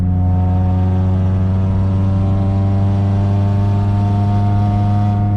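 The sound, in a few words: Acura RSX exhaust while driving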